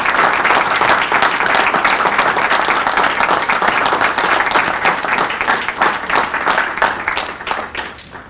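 An audience at a school board meeting claps steadily for several seconds, a dense even round of applause that thins out and fades near the end.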